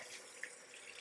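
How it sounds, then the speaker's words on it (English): Running tap water splashes steadily into a kitchen sink as hands are rinsed, close and continuous for about a second. "Rinse my hands"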